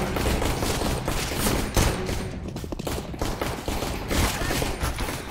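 Rapid gunfire from the video game Terrorist Takeover, loud sustained bursts of shots with barely a break across the whole stretch.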